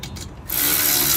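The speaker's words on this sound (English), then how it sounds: "Put your nut on. And you want to tighten it." A nut is tightened onto a carriage bolt during assembly of a heavy-duty poly dump cart: a few soft handling sounds, then a continuous close ratcheting whir.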